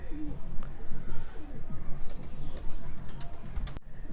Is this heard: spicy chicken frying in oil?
no